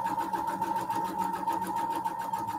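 A sewing machine runs steadily while an argyle quilt is pieced, a fast even mechanical whir with a rapid needle rhythm, close and continuous.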